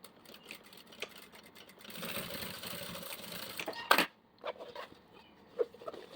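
A sewing machine runs a straight seam for a professional finish in a sewing workshop, its fast steady motor whir holding at close range with a sharp louder burst near the end, no voices over it.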